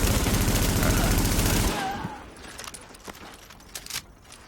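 Rifle fire in the video game Tom Clancy's The Division, a rapid, loud burst of automatic shots lasting under two seconds, then quieter scattered clicks and clatter.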